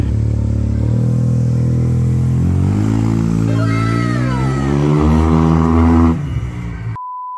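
Yamaha T-Max scooter with an aftermarket red exhaust revving up close and loud, the engine note climbing and falling through several throttle blips before cutting off, followed by a brief steady tone.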